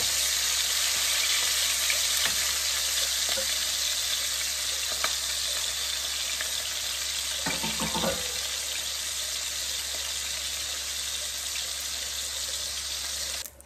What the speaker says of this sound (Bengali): তেলটা গরম হইলে মাছগুলো দিয়ে দেব।